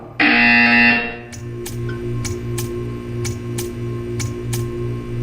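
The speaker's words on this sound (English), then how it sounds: "You will hear a buzzer." A loud, harsh buzzer blares for about a second in the video game Portal 2, then gives way to a quieter, steady ticking pulse with no talk.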